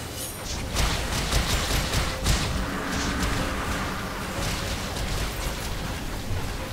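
Sticky grenades blowing up in the video game Dungeon Defenders 2, a dense run of repeated booms and crackling blasts layered with clattering game effects, steady and loud throughout, no voices.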